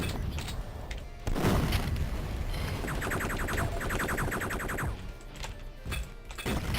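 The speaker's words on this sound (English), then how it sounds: "you can just pick them off one at a time with pipe bombs" A pipe bomb blast in the video game Duke Nukem 3D gives a sudden deep boom, followed by a stretch of rapid rattling game effects and more scattered impacts.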